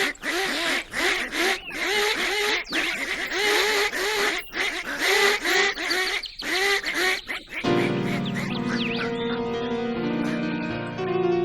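Geese honk and cackle in a rapid, close, repeated burst for several seconds before gentle music takes over.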